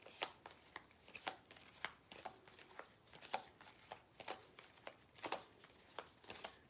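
A deck of cards is shuffled repeatedly and close up, giving crisp riffling bursts and taps in an irregular rhythm, fairly quiet and with no talking.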